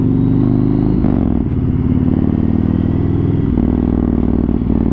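A first-generation Yamaha MT-01 fitted with an Akrapovic exhaust rumbles loudly on a test ride, its deep, heavy engine note dipping and rising with throttle changes.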